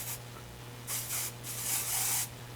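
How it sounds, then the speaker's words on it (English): Several short hissing bursts of tint spray from an aerosol can, close by, sprayed into a human-hair wig, with a steady low hum in the background. "I'm just going to go ahead and spray the inside of this unit"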